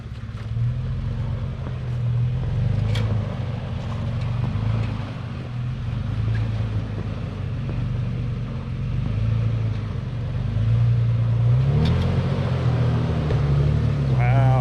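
A Toyota FJ Cruiser climbing a small snowy hill in Woodland Park, Colorado, its low engine rumble steady and close, swelling briefly toward the end, with faint voices in the background.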